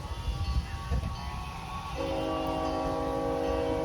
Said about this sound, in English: We're listening to the actual train as well as the zoo train.